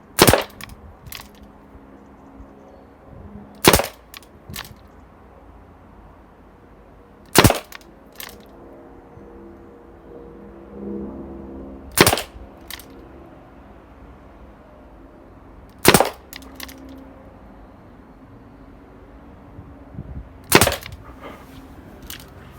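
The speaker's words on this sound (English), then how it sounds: "It's a nice gun to fire, mind." A Colt 1911 A1 Government pistol fires six sharp, loud shots spaced a few seconds apart, each a hard crack with brief echo, with quiet handling noise between them.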